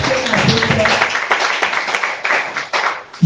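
A church congregation applauds and acclaims the Lord, a dense burst of clapping from many hands, with voices mixed in throughout.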